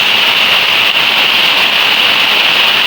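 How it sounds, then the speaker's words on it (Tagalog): Heavy rain pours steadily on a house, a dense, loud hiss of water hitting surfaces with no pauses and no voices. "Ang lakas ng ulan"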